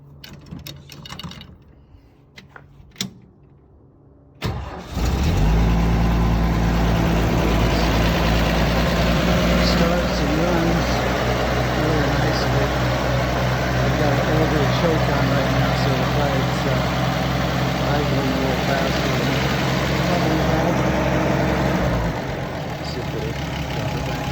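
A 1976 Toyota Land Cruiser FJ40 is heard with a few faint clicks and handling noises, then the engine cranks and catches about five seconds in. It settles into a loud, steady, rough-edged idle close by for the rest of the clip.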